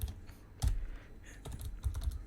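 Scattered keystrokes on a computer keyboard, a few quiet clicks and short bursts of typing at close range with no talking.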